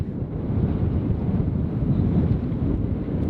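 Steady stormy wind roars continuously at a moored sailboat, a dense low rumble with gusty swells and no break throughout, with no voices.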